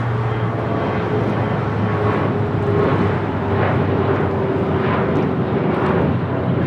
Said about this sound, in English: 5273 taking off to Aspen, Colorado on a CRJ 700 ER.